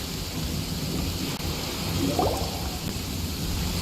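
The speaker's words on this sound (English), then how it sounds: "Oh, it's raining." Steady rain hisses continuously in the video game Genshin Impact, with a low rumble of thunder swelling briefly in the middle; no voices.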